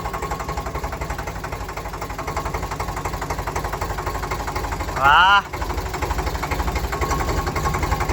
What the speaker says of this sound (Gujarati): એને હકાવવું છે ટ્રેક્ટર